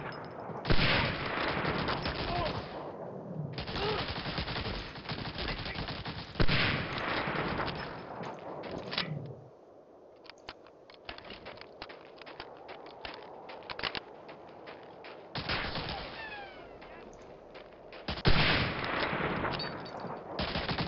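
Bursts of rapid gunfire and rifle shots from Medal of Honor Allied Assault, loud and dense with brief lulls, including a quieter stretch of scattered shots before heavy firing resumes.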